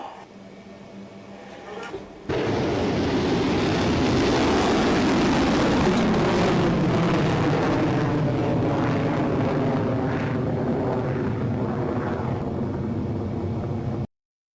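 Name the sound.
test firing of a long range anti-ship missile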